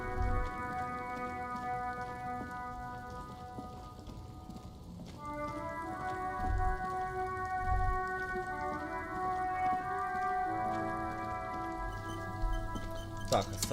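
Rain falls steadily on a car during a traffic jam, a soft constant patter under sustained musical tones, with a low rumble near the end.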